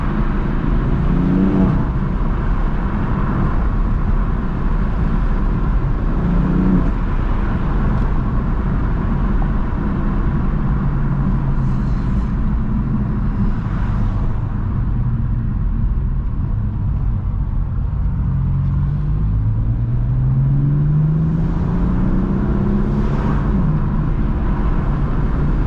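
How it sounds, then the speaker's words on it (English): A stock 2018 BMW M4 driving on a wet, muddy surface, with a steady low engine drone and tire rumble throughout and a few rising revs as the car accelerates and slides. "Yo, this car breaks loose like it's nothing."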